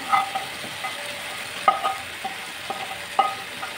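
Chicken pieces stirred through a masala in plenty of hot oil, with a soft steady sizzle beneath and a few sharp scraping knocks of the spoon against the pan at irregular intervals.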